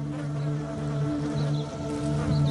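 A dense, steady buzzing drone of many Asian honeybees swarming close by, humming without pause.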